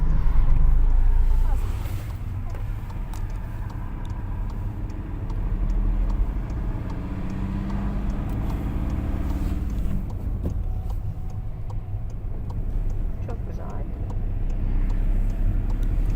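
A learner driver's car engine runs as the brake is released and the accelerator pressed, a low, steady motor drone that swells in places, with people talking inside the cabin over it.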